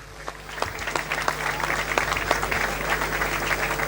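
Applause from an audience at the Canal d'Or event as organizing committee president Théodore Ndanga is welcomed, steady and moderately loud clapping that builds and holds for several seconds.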